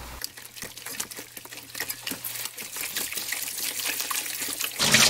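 Tap water runs steadily while a whole stone octopus coated in flour is rinsed in the kitchen. The splashing stays continuous and close, and a louder gush comes at the end.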